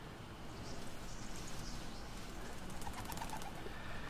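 A pigeon or dove coos faintly amid a low rumbling ambience in a scene from the horror film The Nun, with a few soft calls standing out near the end.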